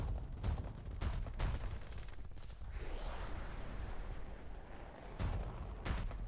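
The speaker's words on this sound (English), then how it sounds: "I just hear a lot of gunfire and shredding sounds." Heavy gunfire in War Thunder, with loud repeated bursts and booming cannon-like shots over a constant roar of engines and shredding impacts.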